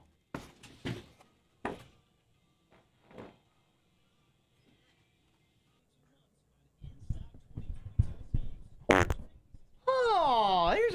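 Farting sounds from a compilation of fart noises, several short bursts spaced apart, then louder rumbling bursts near the end alongside a rising and falling squealing tone.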